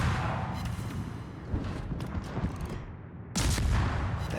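Warship guns firing in a naval video game, a near, continuous rumbling barrage of booms and dense gunfire with a fresh loud burst near the end.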